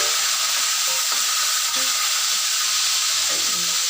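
Fish fries in a pan with a loud, constant sizzle and crackle, close up and steady throughout, with no one talking.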